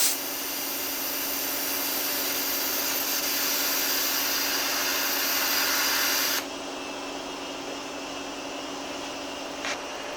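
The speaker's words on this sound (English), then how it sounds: "Now my air compressor has a bad pressure switch in it, so it does not like to turn off" An air compressor with a faulty pressure switch, used to fill a truck's airbag tank, runs as a loud, steady hissing hum that drops to a quieter, continuing whir partway through.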